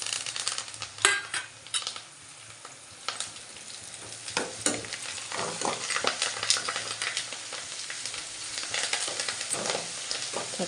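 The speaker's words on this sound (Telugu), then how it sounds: "చక్కగా ఫ్రై అయితే కొంచెం సేపు ఫ్రై అవనిద్దాం" Ginger paste and curry leaves fry in a pan, a steady close sizzle broken by scraping stirs and light clinks of a spoon against the metal, with no voices.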